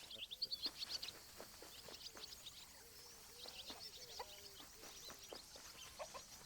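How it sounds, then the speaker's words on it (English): A chicken clucks in the video game Alba: A Wildlife Adventure, a string of soft, repeated clucks and short calls at low volume over a quiet outdoor ambience, with no talking. "Chicken."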